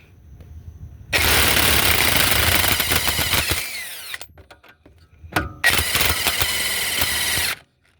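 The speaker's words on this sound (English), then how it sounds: "I'm going to use my impact on here, and hopefully it doesn't spin" On a 2011 BMW 535i with a 3.0L engine, an impact wrench hammers at a strut nut in two long, loud bursts, with a brief rattling pause and a short spin between them before it stops abruptly.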